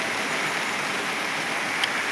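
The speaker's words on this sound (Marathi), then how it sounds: "आता थोडा थोडा येतोय पण आभाळ भरपूर आलेले पाऊस येईलच असं वाटतंय" Light rain with big drops falling steadily on a farm field, a dense even patter with one brief brighter drop near the end, no voices.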